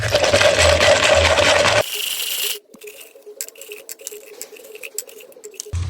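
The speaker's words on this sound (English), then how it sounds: "I just chucked all those nuts and bolts in here and give them a good swirl around and a clean in petrol" Small metal nuts and bolts swirled around in a container of petrol while cleaning Land Rover gearbox parts, giving a dense, loud rattling patter that drops to lighter, scattered clinks and metallic taps close by.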